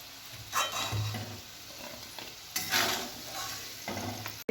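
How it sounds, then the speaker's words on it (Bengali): Potatoes fry in hot oil with a steady close sizzle. Occasional scraping stirs and light utensil contacts sound over it, with no talk. "আলুটা আমার খুব ভালোভাবে ভাজা হয়ে গেছে"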